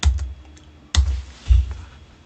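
Computer keyboard keys pressed while re-running a command in a command prompt: three separate, sharp, close clicks, each with a dull thump, spaced about half a second to a second apart.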